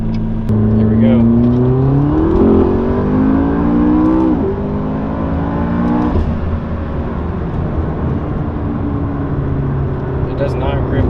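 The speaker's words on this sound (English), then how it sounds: "now we're just test driving until we make sure it's not leaking" A McLaren engine pulls hard on a test drive after being reassembled, its tone climbing and dropping through the gears in a loud, close cabin drone while people talk over it.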